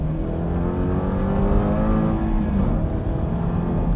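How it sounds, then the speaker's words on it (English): A Toyota GR86 sports car engine runs steadily loud and close, its revving tone rising and settling in a continuous throaty drone. "That sounds like an engine where it should be."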